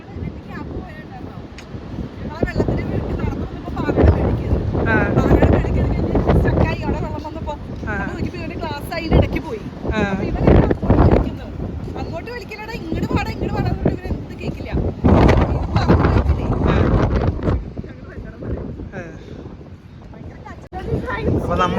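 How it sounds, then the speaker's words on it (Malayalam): Strong wind blowing across a large hill above a cave in Taranaki, buffeting the microphone in loud gusts beneath a person talking. "ചില സമയത്ത് കാറ്റടിക്കുമ്പോഴേ നിൽക്കാൻ പറ്റണല്ല"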